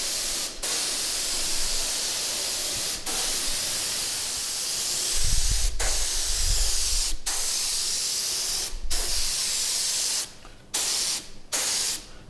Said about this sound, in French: On commence avec la pulvérisation au pistolet d'une préparation à base de beurre de cacao et de chocolat.